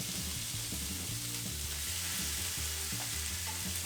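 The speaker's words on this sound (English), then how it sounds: "Let's throw the corned beef hash." Corned beef hash sizzles and crackles steadily in a hot pan, a constant frying hiss with faint scraping underneath, no voices.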